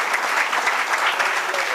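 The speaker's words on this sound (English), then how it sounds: "so yeah, a special round of applause for you." Steady applause from a conference audience at an accreditation panel, a dense, even patter of many hands clapping throughout the short stretch with no voices over it.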